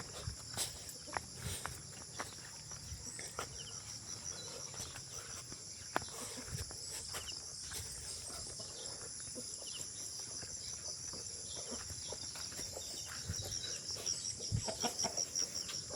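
Free-range chickens being fed corn outdoors, with scattered clucks, pecking and rustling footsteps under a constant insect chirr from crickets, fairly quiet and without talk.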